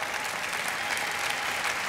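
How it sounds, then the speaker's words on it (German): Spectators at a televised synchronized platform diving event clap loudly and continuously, a thick wash of applause with no voices on top. "Applaus für die beiden Herren."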